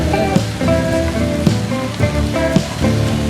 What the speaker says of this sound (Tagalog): lagi tamang ulan. ambon-ambon lang.